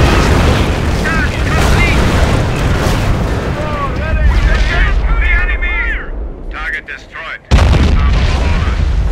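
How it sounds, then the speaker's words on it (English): SD-2 butterfly bombs going off in a Company of Heroes match, a heavy rumbling barrage of booms and explosions with whistling tones overhead, a brief lull, then a sudden loud burst; game voice announcements play over it. "The enemy will hide in fear. fear at the sound of butterfly bombs falling overhead."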